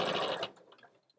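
A home sewing machine stitches an ironing board cover at a short stitch length, running in a steady close whir for about half a second before stopping, leaving only faint ticking.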